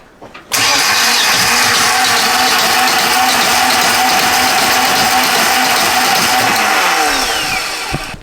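An old Volvo Penta 2000 series marine diesel on a boat cranks hard and struggles to fire. The starter churns in a loud, steady, rhythmic stream of labouring pulses for about seven seconds, close to the listener.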